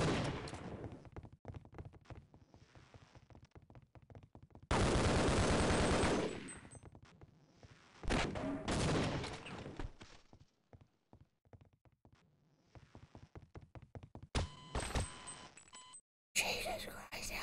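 Rapid automatic gunfire from the video game Half-Life: Opposing Force, sharp repeated bursts with loud sustained volleys, interspersed with game sounds and beeps.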